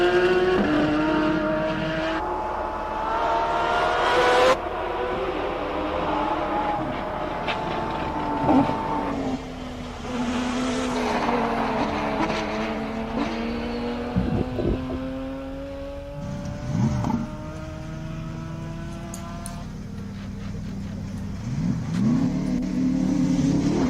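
Race cars accelerating up the Simola Hill hillclimb, engines revving hard with rising pitch sweeps as they shift through gears, several passes overlapping, loud and continuous with no talk.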